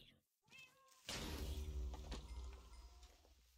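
A cat meows in Minecraft, a short plaintive call followed by a loud burst of dense game noise that carries on to the end.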